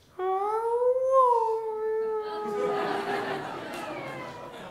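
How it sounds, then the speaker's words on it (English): A long, drawn-out meow with clear rising and falling pitch, close and fairly loud, trailing into a breathy, noisy tail. "a cat that when it meows, it sounds like I love you"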